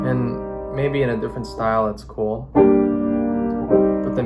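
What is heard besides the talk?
None of the usual background noises is heard.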